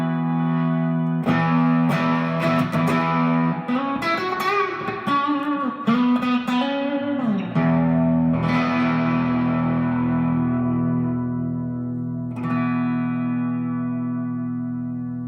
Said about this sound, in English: Here's with the reverb on.